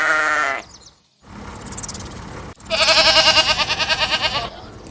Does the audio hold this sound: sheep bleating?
yes